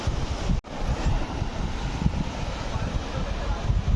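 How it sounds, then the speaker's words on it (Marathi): Ocean waves breaking on Nivati Bhogwe beach in Konkan, a steady broadband roar of surf and wind buffeting the microphone, with one brief dropout near the start. "अचानक मोठी लाट आली"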